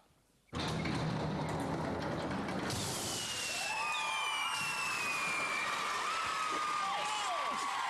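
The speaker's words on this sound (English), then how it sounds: "Now's the chance for you, Lucy, to get your own back. Pull the lever." A lever is pulled on a gunk dunk tank mechanism, giving a sudden mechanical clunk followed by a long sliding, whooshing release, with a lively crowd cheering and shouting around it.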